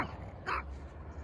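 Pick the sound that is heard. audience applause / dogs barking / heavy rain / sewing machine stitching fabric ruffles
dogs barking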